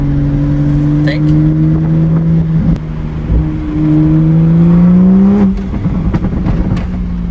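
A rebuilt, previously wrecked 2023 Toyota Supra accelerating from inside the cabin, a loud, steady engine drone rising in pitch through the gears, with a brief shift dip midway.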